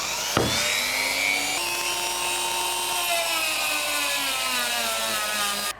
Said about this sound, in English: I'm going to now jump onto the Dremel and just smooth out the whole heel tip until I've got it